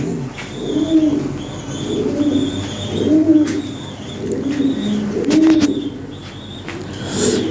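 Lahori pigeons in a loft cooing in repeated low, rolling phrases, several birds close by and fairly loud, with occasional chirps and brief wing or cage noises.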